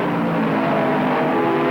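Modified race cars roar around a dirt track, a dense, loud, continuous engine drone from several cars at once, steady throughout without pause.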